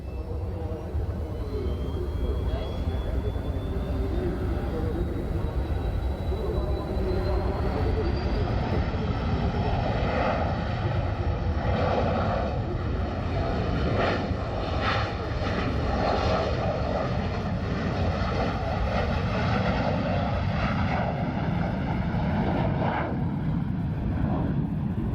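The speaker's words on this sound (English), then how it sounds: "this is the only MiG-15, to my knowledge, doing air shows in the world" MiG-15 jet performing at the Great New England Air Show in 1994, a loud continuous engine roar with a rising whine as it passes, sustained throughout with faint crowd sound beneath.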